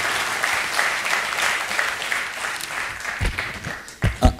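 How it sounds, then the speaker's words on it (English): A conference audience claps in a dense, continuous round of applause that runs steadily, then breaks into a few louder, closer bumps and handling noises near the end. "kindly join your hands and give him a big round of applause"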